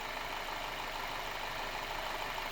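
Audi A5 1.8 TFSI engine idles with a steady, even hum, close and unbroken, with no voices.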